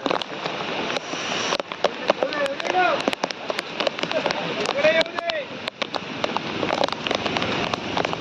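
Steady rain patters and hisses on surfaces in a village, with scattered sharper drips and faint voices underneath.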